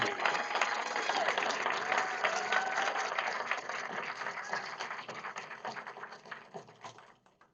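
An audience applauds a graduating police academy class at a ceremony, sustained crowd clapping heard from a distance that slowly thins and fades out.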